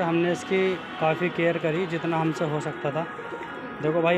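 A pigeon coos repeatedly in low throaty bursts, close by, while someone talks over it throughout.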